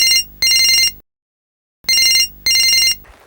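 A telephone rings in two double bursts separated by a short silence, loud and close, with faint noise trailing after the second pair.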